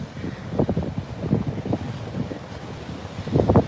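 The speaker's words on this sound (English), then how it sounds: "that's some beautiful surf" Ocean surf rolls onto the beach at Beach Haven, a steady wash of breaking waves mixed with gusty wind buffeting the microphone.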